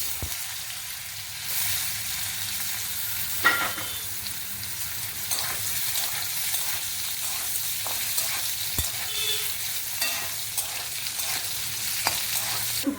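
Boiled potatoes, seasoned with salt and turmeric, fry in a pan with a continuous loud sizzle, broken by occasional scrapes and knocks of stirring.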